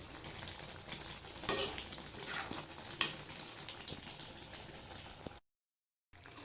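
A jaggery and coconut mixture for laddus thickens in a pan while being stirred, with soft scraping, a couple of sharper metal clinks and a low sizzle, then a brief silent gap near the end.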